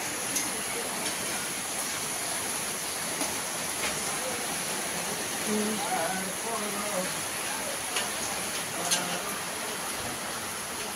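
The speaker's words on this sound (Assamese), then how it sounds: "বৰষুণ চাওকচোন" Rain falls outdoors at a household gathering, a soft, steady hiss of drizzle in the background with a few scattered drips and some faint murmuring voices.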